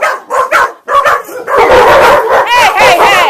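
A puppy barks and yips in quick, shrill bursts, loud and close, with some whimpering mixed in and a fairly steady run of yapping in the second half.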